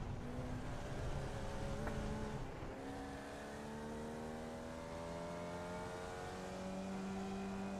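A Formula Vee race car in the iRacing sim at Snetterton Circuit, its engine revving hard in second gear as the rear wheels spin out, pitch climbing and shifting in rising sweeps, loud and continuous with a brief tire squeal.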